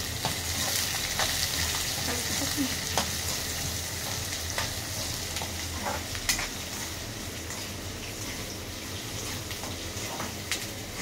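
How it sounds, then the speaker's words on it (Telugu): Sliced onions and green chillies frying in a pan for masala dosa filling, with a constant dense sizzle close by and occasional light scrapes as they are stirred, no voices. "ఉల్లిగడ్డలు, పచ్చిమిరపకాయలు వేసి కలపాలి."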